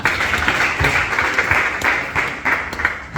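A church congregation applauds during a worship song service, a brief burst of close, steady clapping with broadband noise throughout.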